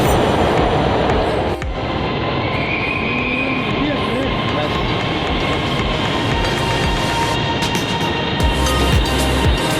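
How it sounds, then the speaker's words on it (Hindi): An Orange Line metro train in Lahore arrives at Ali Town station, producing a steady, loud rumbling roar with rail and motor noise that continues unbroken throughout. "तो अभी ट्रेन आ चुकी है, अली टाउन से मैं दूसरे तरफ जो है वो सफ़र करने लगा हूँ।"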